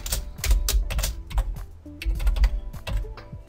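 A name being typed on a computer keyboard: quick bursts of crisp, close key clicks in an irregular rhythm, with short pauses between bursts.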